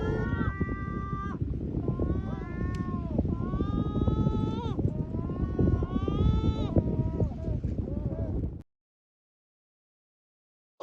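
Several cats meow in a string of rising and falling wails, loud and close, overlapping one another for several seconds before cutting off into silence.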